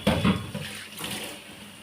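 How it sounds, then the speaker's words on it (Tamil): Water is poured into a kitchen mixer jar, a brief, close splashing gush that trails into a softer trickle, with no talking. "மிக்ஸி தவிர தண்ணி கொஞ்சம் ஊற்றிப்போம்"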